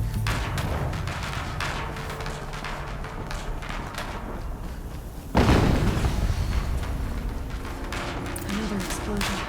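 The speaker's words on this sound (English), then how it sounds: "Another explosion." An explosion in the action game Horizon Zero Dawn lands as a sudden loud blast about halfway through, breaking into continuous rumbling game noise that stays heavier afterward.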